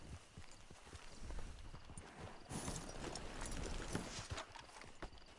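A horse's hooves clip-clop at a walk, steady rhythmic hoof strikes close by over a soft background.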